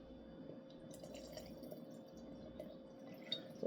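Water trickles and drips into a sourdough starter in a kitchen. The sound is faint and close, a steady soft splashing with no voices.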